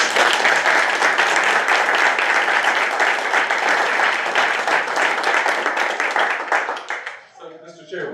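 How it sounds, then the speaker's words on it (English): A school board meeting audience gives a rock band of students a sustained round of applause, thick and even for several seconds before thinning and fading out near the end, with voices mixed in. "How about another round of applause?"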